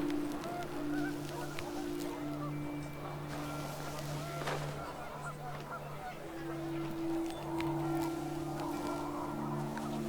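Repeated goose honks of panicked geese in the video game What Remains of Edith Finch, over a steady droning tone and low background noise, continuing throughout.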